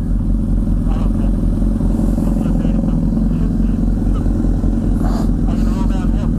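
A Yamaha FZ-09 or Honda CBR1000RR sport motorcycle running nearby, a loud steady low engine drone with a slight rise in revs, while voices talk over it.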